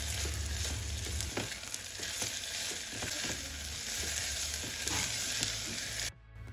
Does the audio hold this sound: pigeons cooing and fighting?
no